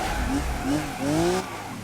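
A car in the BeamNG driving game, in a police career mode, oversteers: tires squeal in rising, wavering tones over a steady engine drone, in short repeated bursts that grow longer toward the end.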